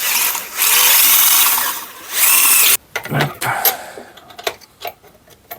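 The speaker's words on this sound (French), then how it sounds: "Alors, on va percer plus gros maintenant." A drill bores larger holes into an engine part in two long loud whining bursts. Then it stops, leaving clicks, knocks and short scraping sounds close by.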